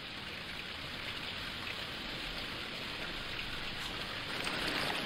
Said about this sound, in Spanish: Wow, qué lluvia.